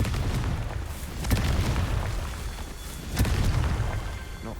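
Two booming blasts from the Confringo explosion spell in Hogwarts Legacy burst out a couple of seconds apart over a low, rumbling game background.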